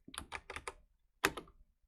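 Quick bursts of keystrokes on a computer keyboard, a short run of several clicks, a pause, then one more cluster, close and fairly quiet.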